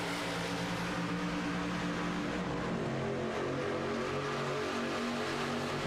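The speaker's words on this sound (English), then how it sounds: "the green flag is waved, and Bob is on the throttle." Race cars in iRacing at Daytona speed up on a green-flag restart. Engines drone and whine in a dense, continuous layered roar that holds steady, with pitches sliding as the cars pull away together.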